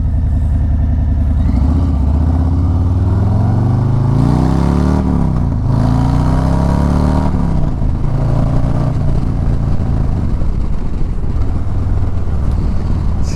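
A Harley-Davidson Low Rider ST fitted with a Bassani 2-into-1 exhaust pulls away from a slow roll into traffic, its deep engine note climbing through revs and gear changes, loud and close throughout with road and wind rumble beneath.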